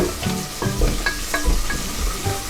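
Green chillies and onion sautéing in ghee for wedding-style ghee rice, a steady close sizzle broken by a few sharper pops and the scrape of stirring, with no talking.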